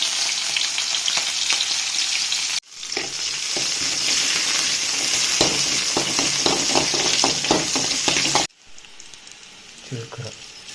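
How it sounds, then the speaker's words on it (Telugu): An omelette with green chillies sizzles loudly in hot oil, a dense steady frying hiss with brief cuts and stirring scrapes, fading to softer crackle at the end. "పచ్చిమిర్చిలతో ఆమ్లెట్ వేయాలి."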